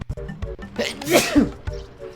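A single person's sneeze bursts out close and loud, with a sharp intake and explosive release in a short, quiet moment amid faint background sounds.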